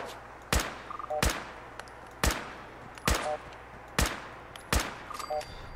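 Gunfire from a gun in Fallout 4, six sharp shots spaced roughly evenly over a few seconds, each a crisp crack followed by brief mechanical clicks, with a low hum underneath.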